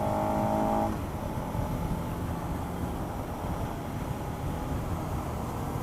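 Suzuki SV650 motorcycle engine holding steady around 6000 RPM in second gear at about 40 mph, a continuous rough drone with heavy wind rumble throughout, a brief brighter tonal whine in the opening second.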